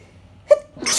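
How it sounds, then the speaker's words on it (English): A single close, loud human sneeze bursts out near the middle, followed by a brief noisy breath or rustle right after, with no talking. "Oh, I'm about to sneeze."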